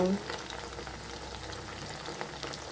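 Battered chicken kebab pieces with onion, coriander and rice flour fry in hot oil with a steady, dense sizzle and crackle that stays even and close throughout.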